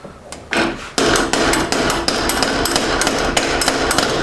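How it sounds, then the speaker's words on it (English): Hammer blows on a part during VW Beetle engine removal, loud close metallic strikes that start sparse and settle into a fast, steady series of repeated hits, with no talking. "Okay, let's get a hammer."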